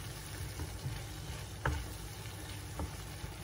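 Seafood pasta sauce with tomatoes sizzling in a pan while being stirred, a steady low frying hiss with occasional scrapes and clinks of the utensil, fairly quiet and close.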